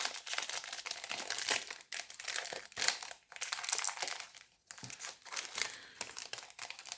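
Final Fantasy trading card booster pack being opened, its foil wrapper crinkling and tearing in bursts of close, crisp rustling, with no talking.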